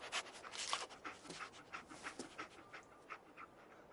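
Dogmeat, the dog companion in Fallout 4, pants in quick rhythmic breaths, close and soft, with a steady run of panting lasting several seconds and no talking.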